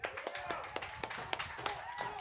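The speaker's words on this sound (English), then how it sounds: "And a round of applause for Kaylee." Small open mic showcase audience claps for a singer, a brief patter of scattered claps at a fairly steady rhythm with faint background noise.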